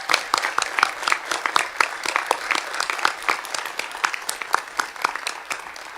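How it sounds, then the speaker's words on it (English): An audience at a quarterly college board meeting gives a round of applause, crisp, fairly close clapping that carries on steadily without talk. "Let's give them a huge round of applause."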